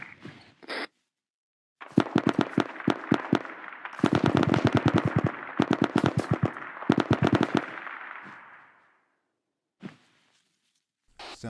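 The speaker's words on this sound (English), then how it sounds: "Sounds like shots to our southeast." Rapid bursts of automatic gunfire from a machine gun in the military video game Arma 3, loud and sharp, coming in several long volleys with short gaps, then fading into a few distant isolated shots.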